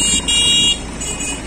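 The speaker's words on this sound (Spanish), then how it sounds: "Y estas son bocinas." Car horns blare in street traffic in Honduras, one long, loud, steady honk joined by another, then a quieter sustained horn continuing in the background of the busy road.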